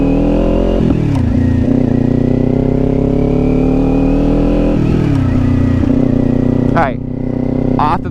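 A Kawasaki Ninja 400 motorcycle is ridden and throttled, its engine droning up and down through several rev changes, with a voice speaking over the steady running engine.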